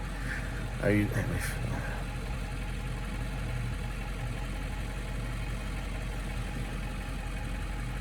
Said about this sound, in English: We got an old F550 diesel here.